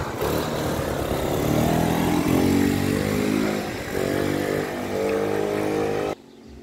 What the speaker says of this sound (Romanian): Iată mă cum este acest motor.